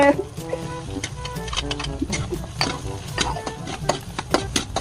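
Small hotdogs and onion frying in a pan, with constant clattering stirs and scrapes of a utensil against the pan over a light sizzle, while a voice talks throughout.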